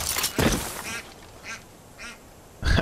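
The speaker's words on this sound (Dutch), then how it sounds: "Weer die eend." A duck in the video game Far Cry 5 quacks loudly and close, in a run of several nasal calls, some strong and some softer, with gaps of quiet between them.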